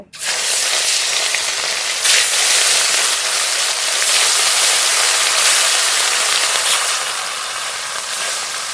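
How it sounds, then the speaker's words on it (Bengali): Rohu fish rubbed with salt and turmeric fries in hot mustard oil in a kadai, giving a loud, continuous close-up sizzle and crackle throughout. "কড়াইতে সর্ষের তেল তেল তো খুব ভালো গরম হয়ে গেছে লবণ হলুদ মাখানো রুই মাছ ভেজে নেব"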